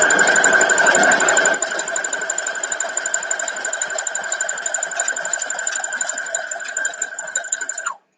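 A sewing machine stitches through quilt fabric, a fast steady mechanical whir with a rapid rhythmic needle chatter, close and loud, running continuously before stopping abruptly.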